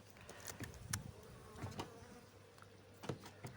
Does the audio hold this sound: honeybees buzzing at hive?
yes